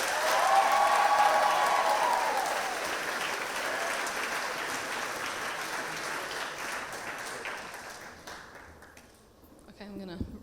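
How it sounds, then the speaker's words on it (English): A crowd at the 2019 Arkansas 4-H O-Rama opening ceremony applauds loudly as a speaker is welcomed to the stage, the dense clapping swelling early, then slowly thinning and fading out near the end. "put your hands together as we welcome to the stage Dawson Smith"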